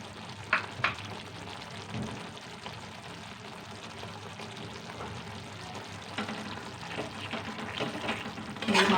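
Small mourola fish tossed and mixed in a frying pan in hot mustard oil with coriander leaves, a low steady sizzle with soft scraping stirs and occasional louder clacks of the spatula.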